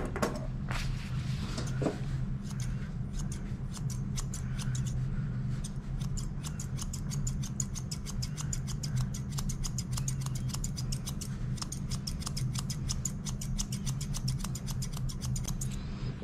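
Grooming scissors trimming a dachshund's fur, a long run of quick, crisp snips in fairly regular rhythm close up over a low steady background hum.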